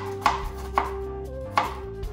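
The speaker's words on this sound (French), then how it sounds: "tu vas hacher ton oignon comme ça" A knife chops an onion on a board in four distinct, sharp knocks at an uneven pace, close and fairly loud, with no talking.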